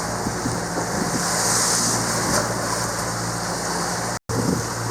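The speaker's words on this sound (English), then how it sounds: "Got a little bit of residual wave action going on here, and the wind is still lightly out of this direction" Ocean waves and steady wind surround a sailing boat at sea, a loud continuous roar of wash and gusts buffeting the microphone, broken by a brief dropout near the end.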